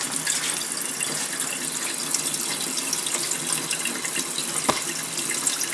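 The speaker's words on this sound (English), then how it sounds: "run the faucet," A kitchen faucet pours warm water into a sink in a steady, close, hissing stream that stays even throughout, with no voices.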